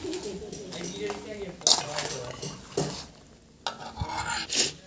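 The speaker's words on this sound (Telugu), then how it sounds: "ఇలా మొత్తం పోసుకొని మంచిగా అన్నీ కలిసేటట్టు కలుపుకోవాలి" Home-grown mango pieces being stirred and mixed with cooled oil for mango pickle, giving soft, uneven squelching and scraping strokes up close, with faint bird calls in the background.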